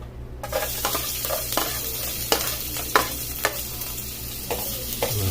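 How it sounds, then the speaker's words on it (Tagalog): Garlic, onion and ginger sautéing in a little cooking oil in a pan, a steady close sizzle with repeated clacks and scrapes of a utensil stirring. "gigisa na natin ang ating bawang, sibuyas at ang luya"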